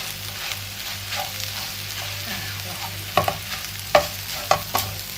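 Liang leaves and chilli stir-fried in a pan, with steady sizzling under repeated scraping and stirring strokes that turn sharper and louder toward the end.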